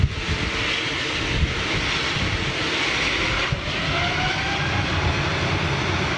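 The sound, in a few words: jet airliner with Trent XWB engines departing, strong blast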